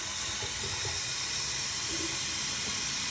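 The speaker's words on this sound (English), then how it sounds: "So I'm going to fill my base up. The coldest your water could get is the best." Cold water runs steadily into a hookah base, a continuous loud hissing rush of pouring liquid with no pauses and no voices over it.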